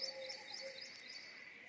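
Small bird near its nest, chirping faintly in short high repeated notes against a steady background hiss, outdoors in cold rainy weather.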